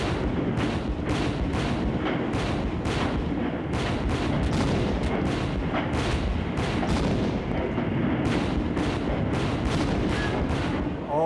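Civil War ironclad naval battle with cannon fire, heard as a dense, continuous barrage of loud booming shots in rapid irregular succession, with no voices.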